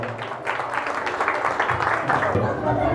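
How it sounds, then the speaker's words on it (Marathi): An audience at a Marathi home-minister game show applauds, steady dense clapping that swells slightly and holds for a few seconds, fairly close and loud. "आपल्या जन्मदात्या आईसाठी प्रत्येकाने एकदा जोरदार टाळ्या वाजवूया."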